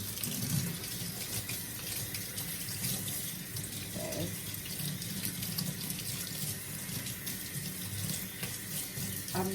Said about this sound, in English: I spray it with water to remove.